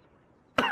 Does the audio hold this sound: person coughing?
yes